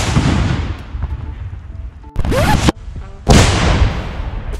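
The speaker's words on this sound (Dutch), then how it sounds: "dan gaan we die 100 gram zien ontploffen" A 100 gram explosive charge detonated outdoors by an army engineer battalion gives sharp, heavy booms with rumbling tails, loud and close against steady wind noise.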